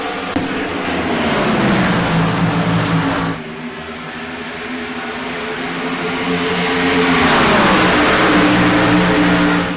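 Nostalgia series race cars racing at Chicagoland speedway roar past, engines rising and falling in pitch as cars pass close, loud, with a brief dip before another pack sweeps by.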